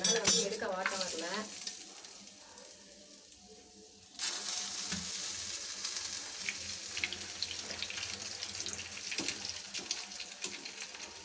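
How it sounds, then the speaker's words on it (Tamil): Hot oil fries and sizzles in a pan while bread malai is cooked, starting as faint kitchen clatter and stirring, then swelling into a loud, steady crackling sizzle from about four seconds on, with no talking. "எண்ணெய் வர லைட்டாக தெரிச்சிருச்சுங்க கையிலையும் முகத்துலையும்"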